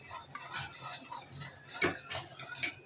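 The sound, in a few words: stirring semolina and custard powder in a pot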